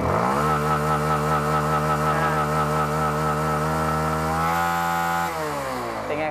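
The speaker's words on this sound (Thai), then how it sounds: "เดี๋ยวผมจะเปิดคันเร่งให้สุดเลยนะครับ" An engine screams at high revs, holding a steady, loud whine before the pitch climbs once more and then drops off.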